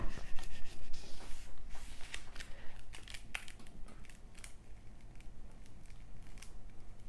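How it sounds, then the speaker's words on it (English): An adhesive sheet slowly peeled back by hand while decorating a koi pond with lotus flowers scene, a close soft crackling and tearing rasp with scattered crisp ticks, steady and unhurried, no voices. "So I'm just peeling back gradually"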